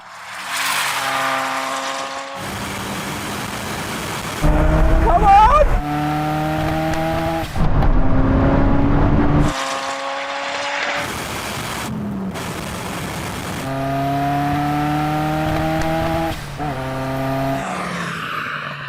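A Ferrari F40 and a Bugatti EB110 accelerate hard side by side in a drag race, their loud engines rising in pitch through repeated gear changes, with brief bursts of wind roar and a voice speaking at the start.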